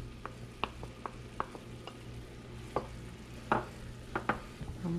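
A spoon stirs liquid thickened with cornstarch in a pot, with scattered light clinks and scrapes against the sides over a steady low hum.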